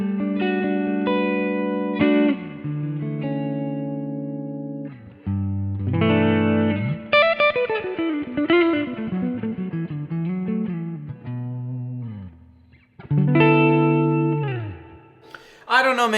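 Clean electric guitar with humbucker pickups played through a Kemper amp, with ringing chords, sliding single-note lines and sustained notes across a long, continuous passage, the tone full and warm with light effects.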